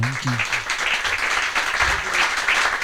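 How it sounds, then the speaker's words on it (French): Applause from an audience at a business talk, a steady mid-level patter of many hands clapping throughout, with a brief spoken word from a voice at the very start. "On peut applaudir Thibaut comme..."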